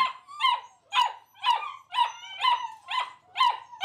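Doberman dogs bark loudly and close, giving about seven evenly spaced barks in a steady rhythm.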